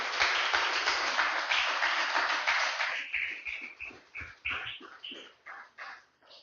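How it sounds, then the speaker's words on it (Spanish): A church congregation applauds, dense clapping for about three seconds that thins into scattered individual claps and fades out. "Denle un fuerte aplauso al Señor"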